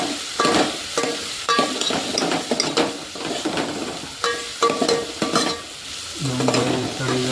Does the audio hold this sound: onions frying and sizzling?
yes